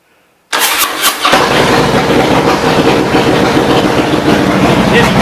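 After a moment of quiet, a 2005 Harley-Davidson CVO Screamin' Eagle Fat Boy engine cranks over and fires, surging up before settling into a loud, rumbling idle.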